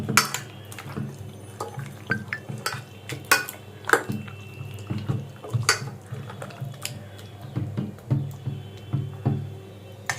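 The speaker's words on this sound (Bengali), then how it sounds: "ভালো করে মাংসের সাথে মাখিয়ে নিচ্ছি।" Mutton is worked by hand with yogurt into a biryani marinade, giving wet squelching and slapping sounds, close and uneven, mixed with frequent clinks of a metal bowl.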